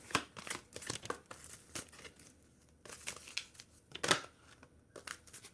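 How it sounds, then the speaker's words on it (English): Thick angel oracle cards being shuffled by hand, giving a run of close, quiet papery riffles, flicks and crinkles in uneven bursts with a few louder snaps, without any voices. "These cards are kind of thick, so it's hard to shuffle with my fingers"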